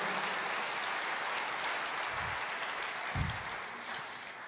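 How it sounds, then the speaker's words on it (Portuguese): A church congregation gives a round of applause for Jesus, a continuous even spread of clapping at moderate level, with two low thumps partway through. "uma salva de palmas para o Senhor Jesus"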